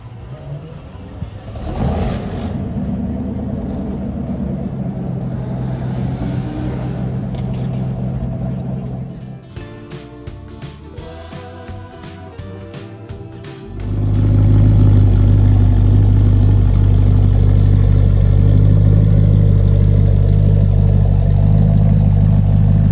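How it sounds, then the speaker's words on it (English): A Ford Mustang II King Cobra drives past during a Mustang club cruise, a moderate engine hum broken by a burst of clatter before a loud, steady low engine roar takes over. "This next car was a little King Cobra."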